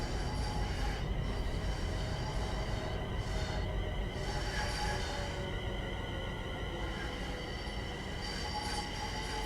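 A Class 350 electric train brakes in Train Sim World 5, with a steady loud rumble of wheels on rails and recurring high brake squeals over the rolling noise.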